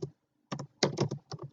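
Quick keystrokes on a computer keyboard while editing label text in a Java GUI layout tool: a short, close burst of a few clicky taps in an uneven rhythm, with no talk.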